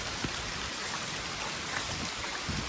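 Steady rain pours down outdoors in Gujarat during a prolonged downpour, a dense continuous hiss with scattered louder drops, close and even throughout with no talking.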